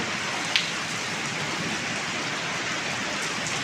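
Rain driven by wind in a village, a steady full hiss of falling water at constant loudness, with one brief sharp knock early on.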